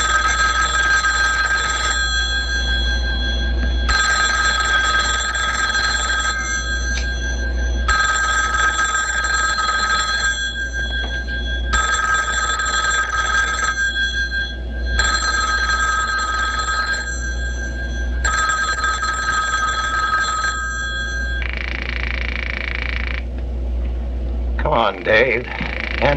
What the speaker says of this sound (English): answer your phone, will you?